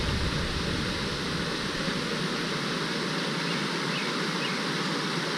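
Water from a small waterfall stream at Sam Thep waterfall in Na Yung, Udon Thani rushes in a steady, dense hiss, close and constant throughout with no other sounds.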